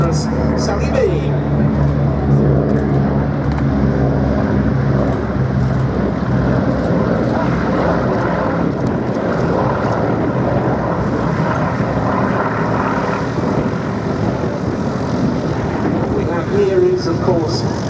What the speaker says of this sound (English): Duxford's most beloved warbird, OMB-17G Flying Fortress, Sally B.